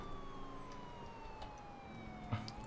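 Police sirens in the video game GTA 4 wail steadily at a moderate distance, their pitch sliding slowly downward across the clip with a soft thump near the end.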